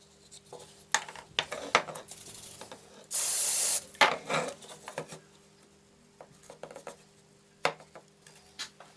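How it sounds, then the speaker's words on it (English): Glue and activator go onto a kitchen cabinet cornice moulding: a short hissing spray burst of activator stands out among scattered taps, rubs and small clicks of handling, all close and fairly quiet. "The same glue and activator. Let's put glue here."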